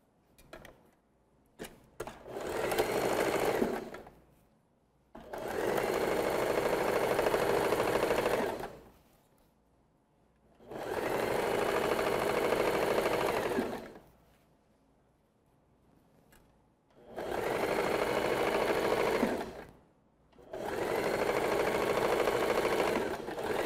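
Sewing machine stitching the front part of a dress, running in four or five steady bursts of a few seconds each, separated by short quiet pauses, close and moderately loud with no talking.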